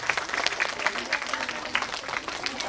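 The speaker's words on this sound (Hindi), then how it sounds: "मैं चाहूंगा कि एक बार आप जोरदार ताली बजा के इनका स्वागत करें" Children at a summer camp session in a hall give a hearty round of applause to welcome an IAS officer, a steady crackling burst of many hands, moderately distant, with faint voices mixed in.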